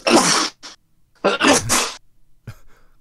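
Two loud, sharp sneezes close to the mic with a brief gap between them, followed by a faint sniff.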